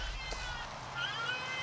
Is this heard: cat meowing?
yes